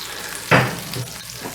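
Butter melts in a skillet with a low, constant sizzle, and one brief swish near the start as the pan is tilted to spread it.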